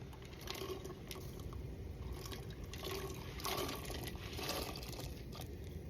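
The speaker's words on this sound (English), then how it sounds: "so I'm going to add the beans." Dry beans being added to a pot of boiling water, a steady close wash of bubbling and splashing liquid with brief louder gushes as they go in.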